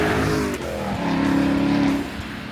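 Chevrolet Camaro fitted with all-terrain tires accelerating hard, a loud close engine note climbing in pitch and holding a strong drone, with no talk over it.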